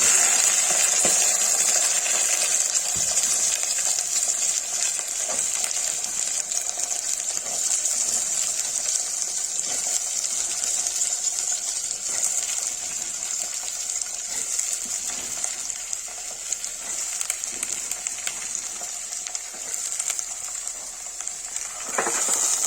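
Peas and potatoes fry in hot oil for aloo matar, giving a steady, loud, bright sizzle that holds throughout with little change, occasional spatters and faint stirring clinks.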